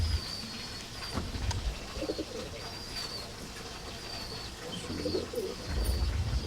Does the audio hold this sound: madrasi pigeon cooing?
yes